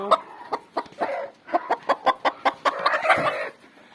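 Chickens cluck close by in a quick series of sharp, rhythmic clucks, rising into a busier burst of calls before fading.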